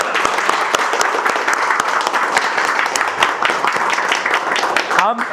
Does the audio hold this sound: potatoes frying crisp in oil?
no